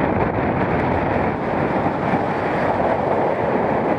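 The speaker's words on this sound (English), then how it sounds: "Very windy." Strong wind roars steadily across the microphone on the hilltop of Irton Pike, a constant low buffeting rumble with no breaks and no voices.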